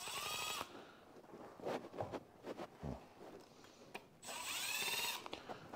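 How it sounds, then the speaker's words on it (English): A power drill driving screws whirs loudly in two long bursts at the start and end, with clunks and handling noises between them, during sink installation in an apartment. "that's why I always bring my drill because this stupid one has screws."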